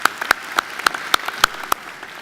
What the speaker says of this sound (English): I think she deserves another great round of applause.